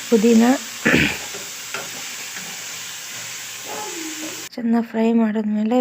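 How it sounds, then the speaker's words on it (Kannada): Tomatoes fry and get stirred in a pan for a chicken gravy, a steady sizzling hiss running the whole time with a clatter of stirring, while someone talks over it at the start and end. "ಇದು 2-3 ಟೊಮೊಟೊ ಹಾಕಿದ್ದೀನಿ. ಚೆನ್ನಾಗಿ ಫ್ರೈ ಮಾಡಿ."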